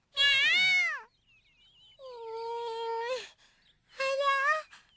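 A cat meows three times up close, each call clear and drawn out with short quiet gaps between them.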